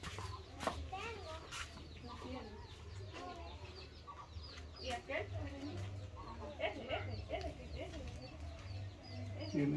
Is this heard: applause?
no